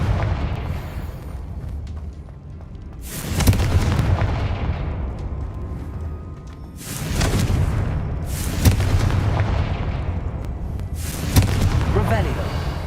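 Confringo blasting spells exploding in Hogwarts Legacy: four loud booming blasts spaced a few seconds apart, each a sharp burst with a rumbling tail, over a low steady background with some talk.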